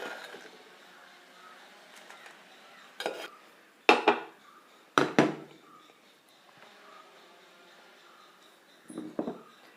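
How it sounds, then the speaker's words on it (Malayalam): Fried dried red chillies are scooped from a pan into a bowl: a few sharp metal clanks and scrapes of a spoon against the pan, with quieter scraping between them. "വറ്റൽ മുളകും നമുക്ക് പാത്രത്തിലോട്ട് കോരി മാറ്റാം"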